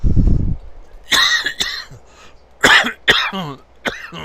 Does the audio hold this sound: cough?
yes